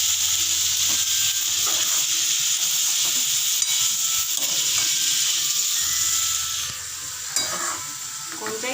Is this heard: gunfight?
no